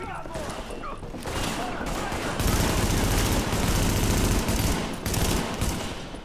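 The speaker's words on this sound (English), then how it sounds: "So much recoil on this gun" Gunfire in the video game The Division comes as dense automatic bursts of heavy rattling shots, loud and sustained with short gaps, mixed with game effects.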